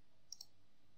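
A pair of soft, close mouse clicks in rapid succession while working in Maya 2017, isolated in an otherwise quiet room.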